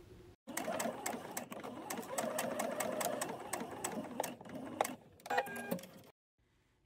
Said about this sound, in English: you're just gonna keep sewing all the way until you hit the point